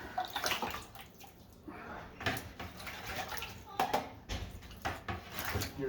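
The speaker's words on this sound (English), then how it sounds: "so I like to put some water in it." Water is poured into a bucket of drywall mud to thin it, a soft, uneven splashing and gurgling that rises and falls in bursts, fairly faint and close.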